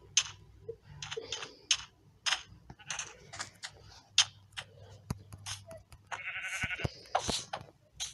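Short clicking and tapping bursts, like keyboard typing, run through a Minecraft game session, with a few faint sheep-like bleats mixed in near the end and no speech.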